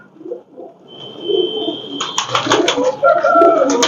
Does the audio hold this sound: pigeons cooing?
yes